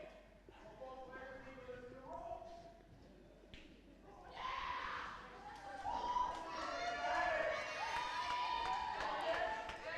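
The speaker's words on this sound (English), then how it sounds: "Abby finishes this with the thunderous applause, welcoming her back home." Crowd applause and cheering at a senior rec night swim meet in Woodland Hills rises in the second half, a broad echoing wash under a commentator's voice, which is clearer at the start.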